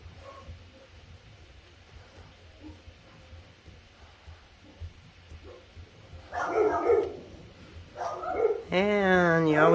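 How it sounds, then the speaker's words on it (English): Dogs break into barking after a quiet stretch, a few sharp barks and a rising whine or yelp near the end, fairly close and growing louder. "you always know what time it is when the dogs start barking."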